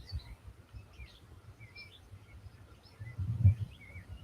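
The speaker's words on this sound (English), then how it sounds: "I can hear the little goldfinches in the tree." Faint goldfinch chirps and short warbling song phrases from a tree, scattered over a low rumbling background, with no voices.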